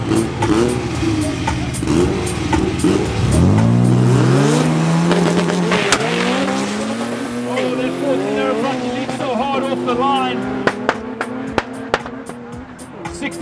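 A drag race car launches and accelerates hard during qualifying at Midvaal Raceway in Mayerton, its engine note climbing steeply through gears over a loud crowd-filled background, with sharp pops and cracks near the end.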